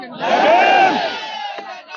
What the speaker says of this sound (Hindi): समर्थन में उतने ही भारी भीड़ और लोग भी उतने ही उत्सुकता से पूरे नारों के साथ और पोस्टर के साथ आपको दिखाई दे रहे हैं